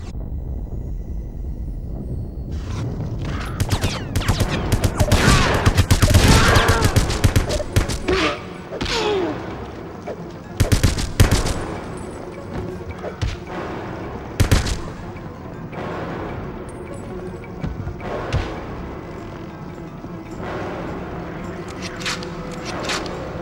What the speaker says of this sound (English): There's a lot of bad guys shooting at us from all sides in this level